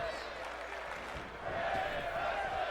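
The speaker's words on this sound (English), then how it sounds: "This capacity crowd live. Loving what they're seeing out of this match so far." A capacity crowd at a live wrestling match cheers and murmurs, a broad, moderately loud roar that swells a bit partway through, with a commentator talking over it.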